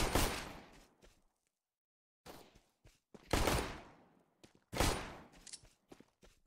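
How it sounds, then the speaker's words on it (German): Bursts of loud gunfire from the video game Counter-Strike: Global Offensive crack in short volleys separated by brief silences, sounding close and sharp. "Also die Schüsse gehen echt manchmal einfach nur ins Leere."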